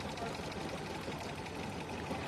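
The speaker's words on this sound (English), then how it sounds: "Sitting at a sewing machine with a computer by her side." A sewing machine runs steadily at a quilting workstation. Its even, close mechanical whir hums on without pause.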